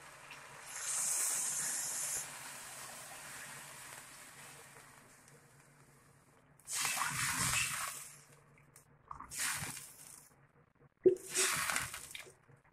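A jug of water poured into hot chicken gravy for a dhaba-style desi murgh shorba, giving a loud sizzling hiss that fades, followed by several shorter bursts of sizzle and splash, with no talking.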